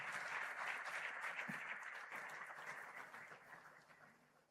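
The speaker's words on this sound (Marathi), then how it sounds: "ह्या दोन्हीही महान विचारवंत आणि कृतिशील विचारवंतांसाठी जोरदार टाळ्या झाल्या पाहिजेत." A crowd at a political speech event with Amit Thackeray bursts into sustained, dense applause that holds steady and then gradually fades, heard from a distance.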